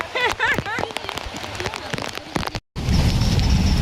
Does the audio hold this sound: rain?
yes